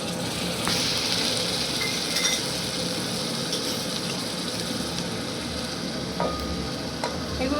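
Onions fry with ginger garlic paste for a crispy egg puri filling, making a loud, dense, continuous sizzle close up with scattered light scraping from a utensil in the pan.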